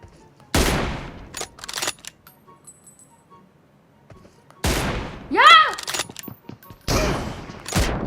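Gunfire in the mobile shooter PUBG Mobile: sharp, separate loud shots come in two clusters with quiet gaps between them, and a short metallic ring sounds partway through. Someone speaks briefly in between.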